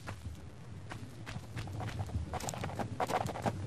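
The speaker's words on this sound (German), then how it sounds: "Nein, ich höre irgendwo... Pferdchen" Horse hooves clip-clop steadily in Tomb Raider I, a walking rhythm of repeated hoofbeats that grows louder and nearer toward the end, with no talk over it.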